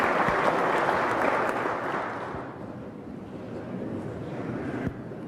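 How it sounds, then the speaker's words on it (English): A crowd claps during Gov. Jim Justice's West Virginia State of the State address: thick, sustained applause that starts loud and eases to a softer, steady patter toward the end, with no voices over it. "Y'all got to settle down on the clapping."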